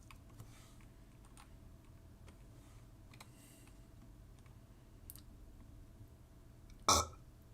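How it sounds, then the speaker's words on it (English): A single short, loud burp bursts out near the end, preceded by quiet room tone with faint keyboard-like clicks and ticks, no talk. "He burps."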